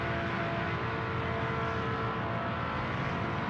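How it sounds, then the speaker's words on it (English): Ambient engine noise in the Project Motor Racing game: a continuous droning hum with a steady pitched tone, constant and unvarying throughout, with no voices. "It's got that weird audio in the background. It's just like this ambient engine noise."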